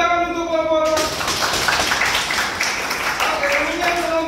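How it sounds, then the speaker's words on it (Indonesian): Classroom applause for a student group, a short burst of scattered clapping at moderate volume, with a voice speaking before and after it. "Tepuk tangan untuk kelompok 4."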